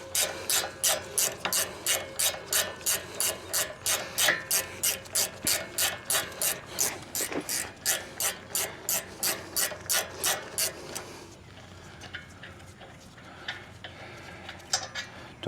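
A hand speed wrench turns a bolt during a vehicle brake pad and rotor change, giving a long, even run of sharp ratcheting clicks that stops after about eleven seconds, followed by quieter handling noises.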